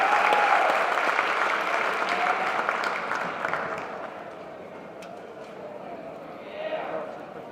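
A crowd applauds players, cheerleaders and trainers at the Sanger Indian 2020 football banquet, with loud sustained clapping that gradually thins and fades toward the end, heard indoors at moderate distance.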